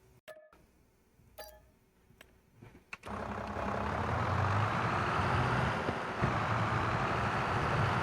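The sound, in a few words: tractor engine in Farming Simulator video game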